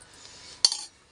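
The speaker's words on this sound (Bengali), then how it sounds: "এখন গায়ে চামচ দিয়ে সাজিয়ে নেওয়া হচ্ছে" A spoon arranging biryani in a pot, one short, sharp metallic clink against the vessel after a quiet moment, close and brief, with a faint rustle before it.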